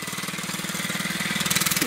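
A child's small mini bike engine buzzes steadily at close range, a rapid, even putter that holds a fairly constant pitch for a couple of seconds with no talk over it.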